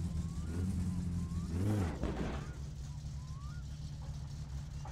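A car in My Summer Car drives with a low, steady engine rumble that swells and revs around the middle and then settles back to a drone, with someone talking over it.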